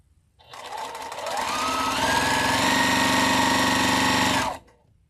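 A home sewing machine pieces a quilt block, running steadily at close range for about four seconds and rising slightly in pitch as it speeds up, with a soft start and stop.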